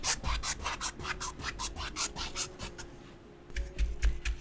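Paintbrush scrubbing cerulean blue and white acrylic onto canvas in a figure-eight crisscross motion, giving quick rhythmic bristly strokes, close up with no talking.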